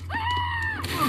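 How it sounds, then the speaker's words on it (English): A Street Fighter V cutscene scream, a single sustained high-pitched cry lasting under a second, fairly clear over a low steady hum, then fading into brief rustling. "Screams."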